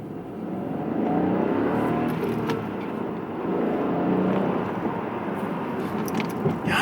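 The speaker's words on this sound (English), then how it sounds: "let's see if we can hear a bit of that 3-cylinder thrum" The 1.0-litre three-cylinder engine of a 2016 Kia Pro cee'd GT-Line gives a low, steady thrum from inside the car while driving through a small village, rising and easing gently with no talking.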